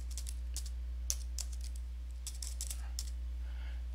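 Typing a folder name on a computer keyboard: a series of quick, light key clicks in irregular bursts over a steady low hum, fairly close, with no talking.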